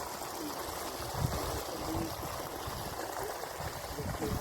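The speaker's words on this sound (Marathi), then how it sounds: "मित्रांनो पाणी येते बघा" Irrigation water flowing into a farm field, a steady close rush with a soft trickling, gurgling texture that stays even throughout, with no clear voices.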